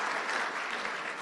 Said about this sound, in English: let's give a round of applause to all three of you who were not first.